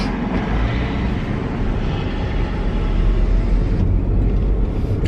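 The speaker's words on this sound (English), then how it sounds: "Listen to that sound of the interstate, I like that." Steady interstate highway traffic heard from inside a moving car late at night: a loud, continuous low road rumble and tire roar with a broad hiss above, constant throughout with no voices.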